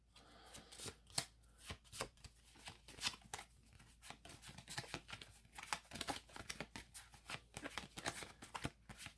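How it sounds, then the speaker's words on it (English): Board game cards from an Arkham Horror Third Edition deck are given a blind shuffle, with a rapid run of crisp riffles and slaps in uneven bursts, close and alone without talk. "we do the bloody crap shuffle, the blind shuffle"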